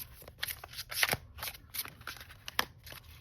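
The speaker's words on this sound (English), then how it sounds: "I'm the worst shuffler of all time." Tarot cards are shuffled by hand in quick, uneven bursts of crisp riffling and slapping, close and fairly quiet, with no talk.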